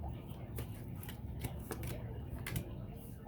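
Tarot cards being shuffled by hand during a reading, giving quick papery riffles and flicks in an irregular rhythm, close and soft, with a voice heard faintly underneath.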